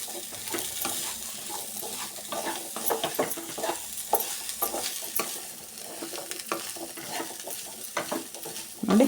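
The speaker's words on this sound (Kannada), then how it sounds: "ಈ ಥರ ಚೆನ್ನಾಗಿ ಒಂದು ಸತಿ ಮಿಕ್ಸ್ ಮಾಡ್ಕೊಳ್ಳೋಣ." A spoon stirring chickpea usli (kadle kalu) in a hot pan: continuous scraping and stirring over a light sizzle, with no one talking.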